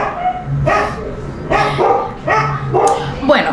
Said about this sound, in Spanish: hoy que estoy grabando empiezan los perros